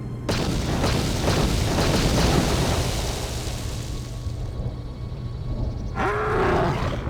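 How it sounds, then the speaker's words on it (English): A loud explosion in the video game Star Wars Knights of the Old Republic II erupts as a long, heavy rumbling boom that slowly fades, followed by a brief growling creature-like rumble near the end. "That explosion has stirred many life forms in the area."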